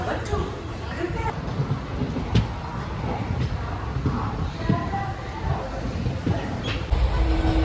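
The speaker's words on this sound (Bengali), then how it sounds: "ঠিক দু মিনিট লেটে শিয়ালদা স্টেশন ছাড়লো" Passenger train pulling out of Sealdah station on a Sealdah–Agartala run, a loud continuous rumble of carriages with faint rail clatter, heard from on board with voices talking nearby.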